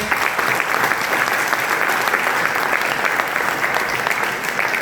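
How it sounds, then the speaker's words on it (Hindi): Loud, sustained audience applause fills the room steadily from start to finish, a dense wash of clapping from a large crowd with no pauses or talk over it. "एक बार जोरदार क्लैपिंग"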